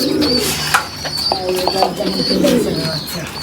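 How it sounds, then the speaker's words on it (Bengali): Young racing pigeon chicks coo and chirp loudly at close range, low throaty calls overlapping with brief higher peeps in a busy, continuous stretch. "এই কবুতরটা দেখেন এই তো রেসারের বাচ্চা"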